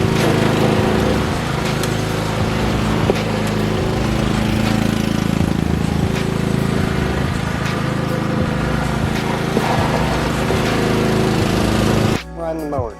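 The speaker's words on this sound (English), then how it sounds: "Riding the mower." The engine of a Toro Wheel Horse riding lawnmower drones steadily and loudly up close, cutting out abruptly near the end, with a voice heard faintly over it.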